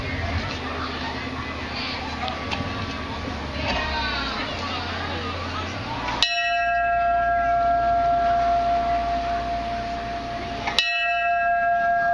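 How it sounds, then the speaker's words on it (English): A memorial bell at a fire department ceremony in Rittman rings loud, clear strikes, each one a sustained ringing tone. The tones decay slowly over a steady background murmur. "the bell rings 3 times in memory of and in tribute to their lives and service"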